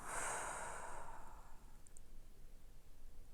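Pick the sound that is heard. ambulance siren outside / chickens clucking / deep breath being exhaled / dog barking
deep breath being exhaled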